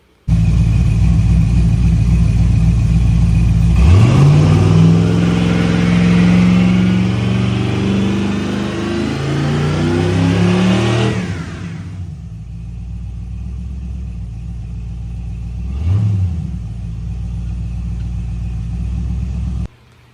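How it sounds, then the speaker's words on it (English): A 1982 Chevrolet C10 pickup engine idles with a low rumble, revs up sharply and holds high before dropping back to idle, followed by one more quick rev. "we got the truck running, everything's done."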